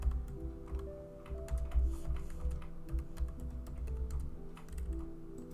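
Steady, fairly quick typing on a computer keyboard while entering text into an app, with keys clattering continuously at moderate loudness and a soft background tone beneath.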